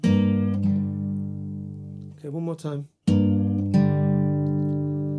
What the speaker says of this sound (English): pluck the 4th and 3rd strings together